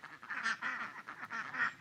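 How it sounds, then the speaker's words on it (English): Runner ducks quack repeatedly in an outdoor garden, a steady run of nasal calls from a few birds fairly close by, with no talking. "We have runner ducks, so if you hear quacking in the background, that is them."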